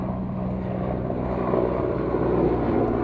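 A French Air Force aircraft takes off from runway 27 at the Royal International Air Tattoo, a steady loud engine roar with propeller drone that swells slightly toward the end, heard from a distance outdoors.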